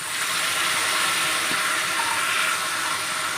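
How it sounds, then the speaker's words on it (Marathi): Tender whole drumstick leaves dropped into a hot pan give a loud, steady broadband sizzle and hiss that stays even throughout, with no talking. "आता हा मी पाला ह्याच्यामध्ये घालते."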